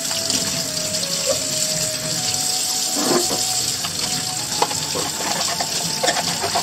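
Water from a running tap splashes steadily over a small stainless-steel hand saw as it is rinsed, a close, continuous gush with brief shifts as the saw moves under the stream.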